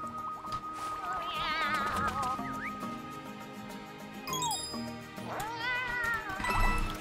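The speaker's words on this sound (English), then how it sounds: "There's so many cats here!" Several cats meow in a Mario video game, repeated rising and falling mews from different cats over light game music, fairly quiet and close.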